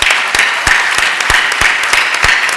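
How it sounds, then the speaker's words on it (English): Audience applause at an annual LGBTQ business awards dinner, a steady wash of many hands clapping with several sharper, louder claps standing out near the front. "give them a round of applause"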